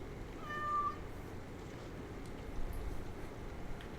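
A single short cat meow rises briefly in Dragon Age: Awakening, quiet over a low, dull ambient hum that carries on after it, with no voices.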